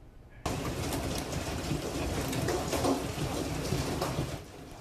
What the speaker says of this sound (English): Severe storms rolled through South Carolina last night, bringing, strong winds, heavy rain, and also damaging hail.